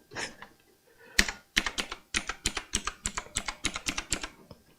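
Fingers tap on an Azio Retro Classic wireless keyboard. The clicky keystrokes come close and crisp, a few single presses at first, then a rapid, uneven run of about a dozen clacks.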